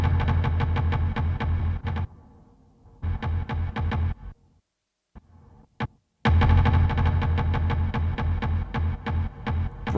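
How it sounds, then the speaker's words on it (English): An Eventide UltraTap delay effect processing a dense, pulsing tone, with loud repeating layers that drop out, return in short bursts, then swell back to a full sustained wash. "There we have the Eventide UltraTap."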